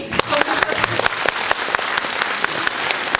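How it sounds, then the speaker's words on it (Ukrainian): Audience clapping at an anniversary celebration of a creative arts centre, rhythmic and fairly close, with the claps largely falling into step in a steady beat. "Тому хочу їм оплески."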